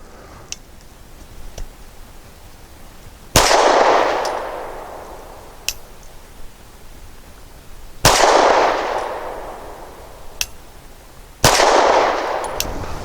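Three sharp 9mm pistol shots from a Gill Arms GPR firing Heavy Shot frangible rounds, widely spaced and loud, each with a decaying outdoor echo, with faint clicks between and no talk.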